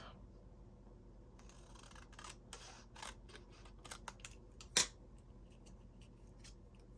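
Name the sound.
cutting a small end off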